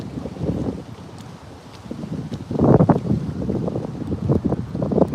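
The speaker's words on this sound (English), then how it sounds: "Yes, it's definitely windy here today too. You see my beard blowing in the wind, you probably hear it too." Strong wind blowing across a frozen lake, buffeting the microphone in gusts that swell and ease, loud and rough throughout, with no talk over it.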